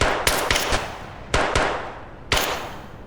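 Gunfire in Escape From Tarkov rings out in several irregular bursts of sharp cracks with echoing tails, some shots close together, loud against a steady background hiss.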